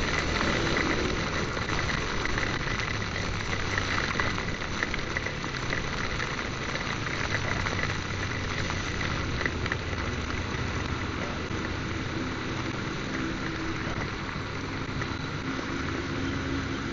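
Heavy rain pours down during a motorcycle ride in Central Java, a steady broad wash of downpour and road spray mixed with rushing wind noise, continuous and close throughout.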